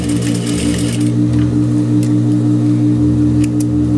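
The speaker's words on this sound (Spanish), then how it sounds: "Vamos a rematar un poquito antes de esa costura." A sewing machine backstitches to lock a seam while a woman's camisole-style shirt is being sewn, giving a steady, close, loud mechanical whir with an even stitching pulse and no talking.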